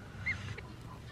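A short high honk-like peep over low rumbling background on a farm, likely from farm fowl near a baby black duck, single brief call, moderately near, no talk.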